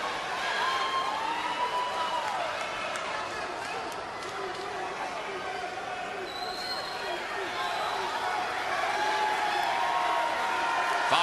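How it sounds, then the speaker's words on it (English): A boxing crowd in a Nashville arena cheers and applauds through a round break in the Jermain Taylor vs Jeff Lacy fight, a steady, roaring wash of noise with scattered whoops and voices mixed in. "the crowd expresses its appreciation for the most significant fight to take place in Nashville in decades"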